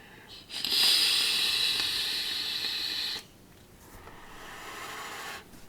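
A long, steady airy hiss of a draw through a Uwell Crown 3 sub-ohm tank with moderate airflow, loud for about three seconds, then a softer hiss continuing alone.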